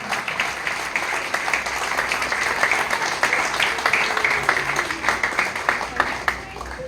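An audience at a pets farmers and traders association annual conference in Kerala bursts into sustained applause, a dense wash of many hands clapping steadily for several seconds in a large hall, with faint voices mixed in.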